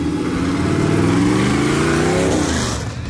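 A Chevelle muscle car engine rated at 420 horsepower revs hard and close by, a steady loud roar that climbs in pitch and then eases off near the end.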